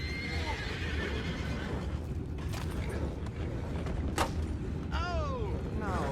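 Horses whinny in the distance in the video game Red Dead Redemption 2, over a low rumbling background, with a couple of shrill neighs and occasional hoof and mechanical noises.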